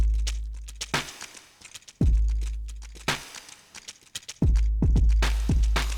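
Snappy drum samples punch over deep, heavy kicks in a production beat: booming kick hits land at spaced intervals with sharp, crisp transients between them, all loud and without any voices.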